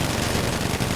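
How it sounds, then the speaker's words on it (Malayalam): Dense rapid gunfire from a video game fills the moment, a continuous loud rattle of automatic shots with no pauses and no talking. "സാറേ ഇവിടെ ആരോ ഒക്കെ നിന്ന് ഭയങ്കര വെടിവെപ്പ് സാറേ."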